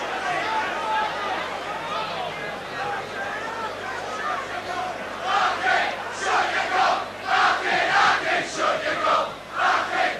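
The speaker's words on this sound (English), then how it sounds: "You can hear what the Leeds crowd think of that." Leeds football crowd at a Leeds versus Bradford cup match reacts to a penalty with a rising chorus of rhythmic chanting and shouting, the massed voices swelling in repeated bursts over a background of crowd murmur.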